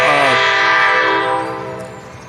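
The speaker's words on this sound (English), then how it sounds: "you see how that train is coming in the background" A passing train sounds a loud, sustained horn blast that slowly fades as it moves on, with a rumbling rail noise beneath it and no talking.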